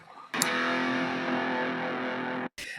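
Electric guitar through reverb and overdrive, one sustained distorted chord ringing for about two seconds before a sharp cutoff and a brief new strum, loud and close, no talking.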